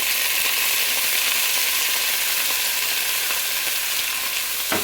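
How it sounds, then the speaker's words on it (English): Steak meat for tacos sears in a really hot pan, giving a loud, steady, close hiss of frying with a few faint clicks and no talk. "get our meat in a really hot pan"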